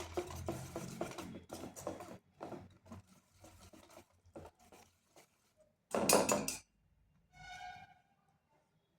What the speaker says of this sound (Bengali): এবার সমস্ত উপকরণ ভালো করে মিশিয়ে নিচ্ছি।